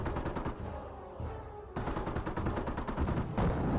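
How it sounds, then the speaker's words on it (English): Rapid bursts of explosive impacts from an incendiary mortar barrage in the World War II strategy game Company of Heroes, dense and loud, with repeated sharp blasts crowding together over a few seconds and no talk. "Oh, nope, it was incendiary mortar."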